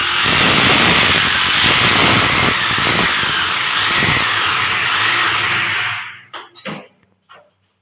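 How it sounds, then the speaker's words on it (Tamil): A power drill bores holes for the bolts of a Venus water heater, a loud continuous whirring for about six seconds that cuts off, followed by a few short clunks. "அதே மாதிரி இங்கேயும் ட்ரில் பண்ணிக்கலாம்."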